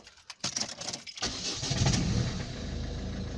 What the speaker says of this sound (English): So we just start the engine so we can show you that.